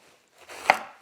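A knife chops through the end of a cabbage in one sharp thud, with faint rustling of the leaves before it and a lighter knock just after.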